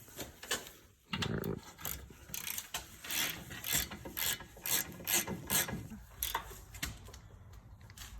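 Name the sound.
ratchet tightening coilover bolts on Acura RSX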